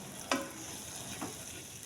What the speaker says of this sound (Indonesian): Kita tumis sampai bumbunya matang ya, sampai harum.